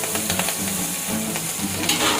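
Finely chopped green chillies drop into hot oil already holding mustard seeds, cumin and asafoetida, giving a steady close sizzle and crackle of tempering with light stirring and no talk.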